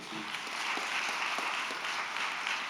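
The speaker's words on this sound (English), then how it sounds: "So if we could give them one more round of applause, appreciate it." Brief, fairly quiet audience applause at a school district board meeting, a short continuous patter of many hands clapping together.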